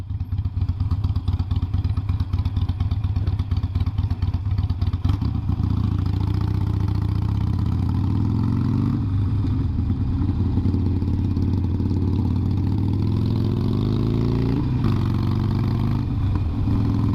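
A motorcycle engine runs close and loud, holding a steady low drone with slight shifts in pitch, and no one talks over it.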